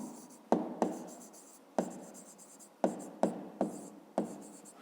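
Numbers are handwritten during a fifth-grade maths exercise, with short close scratchy pen strokes in quick bursts separated by sharp taps and brief pauses.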